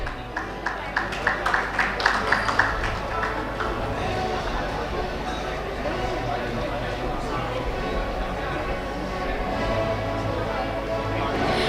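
Audience applause at an urban infrastructure business summit: a brief run of rhythmic clapping early on that settles into a steady wash of crowd noise and chatter.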